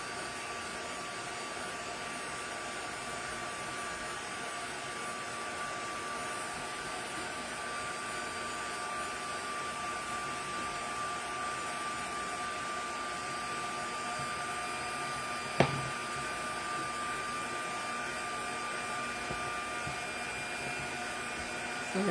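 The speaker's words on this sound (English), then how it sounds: "I'll just grab the dryer and I'll air dry this one a little bit." A hair dryer blows on a decoupaged mini book box steadily and loudly the whole time, a constant whirring roar with a single sharp click partway through.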